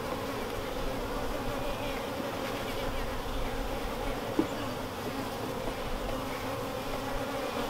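Honey bees buzz steadily in an open hive during a varroa mite check, a dense, continuous hum that stays close and even throughout, with one brief knock partway through and no voices.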